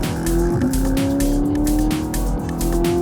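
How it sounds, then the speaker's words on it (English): A 2015 Audi R8 with S-tronic transmission exhaust while driving, a loud, close engine drone with rising and shifting pitch, steady and strong throughout. "Listen to that exhaust."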